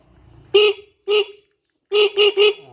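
A small motorcycle horn honks five times: two separate beeps, then a quick burst of three, loud and close.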